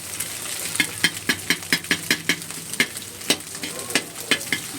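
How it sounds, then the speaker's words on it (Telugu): Egg sizzles in a hot pan for egg fried rice, broken up by a spatula whose rhythmic scraping strokes tap out a steady beat over the constant hiss. "ఇట్లా మొత్తం ఫ్రై చేసుకొని విడిపోయేంత వరకు ఫ్రై చేసుకోండి"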